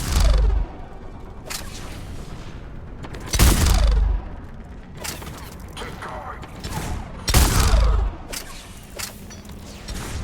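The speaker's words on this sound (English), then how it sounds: "we're getting a lot of mortar fire" Mortar fire and explosions on a Mass Effect 3 battlefield: three heavy booming blasts roughly every three seconds, each with a deep low thump and a long rumbling tail, over a constant bed of mechanical battle noise.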